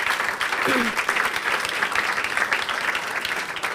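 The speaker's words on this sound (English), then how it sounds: "So please, one more round of applause for the startups." Audience applause for startup pitches at a business and digital innovation semi-final, steady dense clapping filling the hall for several seconds with a brief voice near the start.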